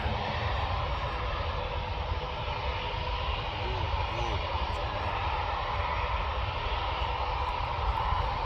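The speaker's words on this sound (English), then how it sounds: "EasyJet's lined up." easyJet airliner engines at Manchester Airport, a loud steady broadband roar and hum that holds constant throughout with no break, with people talking faintly in the background.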